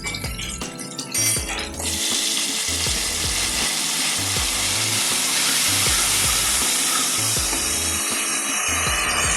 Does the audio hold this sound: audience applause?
no